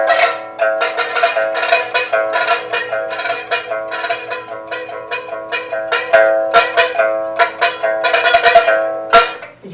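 A Chinese pipa is plucked to imitate a Chinese drum, giving steady repeated struck notes with a bright ringing tone. The strokes come in dense rhythmic bursts, close and fairly loud, with no voice over them.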